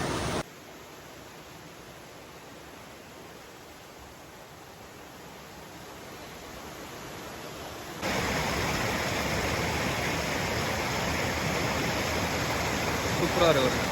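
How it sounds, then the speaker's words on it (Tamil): Waterfall with water pouring down from a mountain, a steady wide rushing hiss that grows noticeably louder and fuller partway through, constant and unbroken. "அப்படியே மலையிலேருந்து அப்படியே தண்ணி வந்து கீழே போயிட்டுருக்கு"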